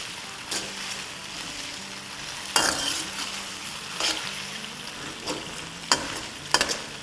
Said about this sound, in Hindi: 3-4 मिनट के आसपास फ्राई करेंगे जब तक अच्छा सा कलर ब्राउन ना हो जाए